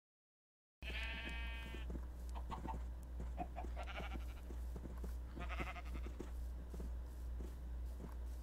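Sheep in a survival video game give several wavering bleats spread across the clip, mixed with soft clucks and footsteps over a steady low hum, starting after a moment of silence.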